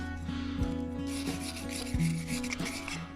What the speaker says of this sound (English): we've got to wire brush it and get all of this compound out